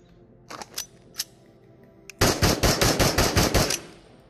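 Automatic PPSh submachine gun fire in the VR game Into the Radius: a few scattered single shots, then a loud, close, sustained rapid burst of about a dozen cracks lasting roughly two seconds.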